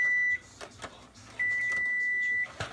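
An electronic appliance beeps twice, a short tone followed by a longer sustained one, with a few soft knocks and clatters in between.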